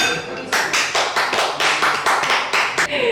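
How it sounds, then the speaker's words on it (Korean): Several people clap in a quick, even rhythm, close and loud, the sharp claps standing out with only faint background sound between them. "박수 쳐주세요."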